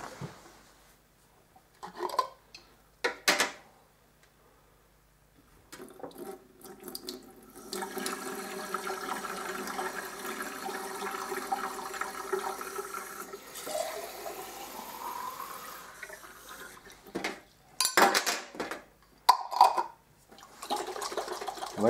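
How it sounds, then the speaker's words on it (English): Running tap water rinses tomato seeds in a sink, the flow starting and stopping in bursts, then a longer steady stream of splashing, followed by a few short gushes and clinks near the end. "Clean them with some running water here."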